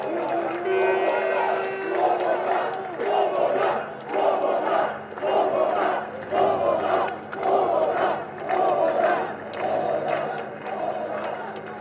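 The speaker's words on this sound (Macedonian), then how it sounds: "Еден голем аплауз за нашите херои" Large crowd cheering and shouting in repeated rhythmic waves of applause for heroes at a Macedonian public gathering, loud and sustained throughout with a voice briefly audible at the start.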